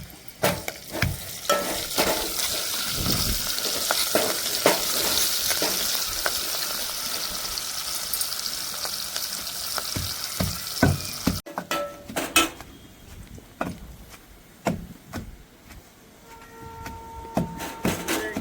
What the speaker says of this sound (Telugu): తాలింపు బాగా ఫ్రై అయింది